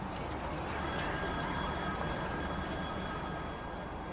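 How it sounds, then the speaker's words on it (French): A telephone rings steadily through the whole span, its bright bell tone held over a dense, noisy background with no talk. "Le téléphone sonna."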